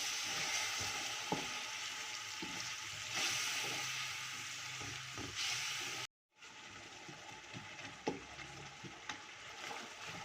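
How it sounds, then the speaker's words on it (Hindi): Garlic and ginger frying in a pan with chickpea pulao masala and softening tomatoes, a steady close sizzle and hiss with a few stirring knocks, alone and unbroken apart from a brief cut partway through. "लहसुन अदरक ऐड कर लेते हैं और इसे साथ ही हम भून लेंगे।"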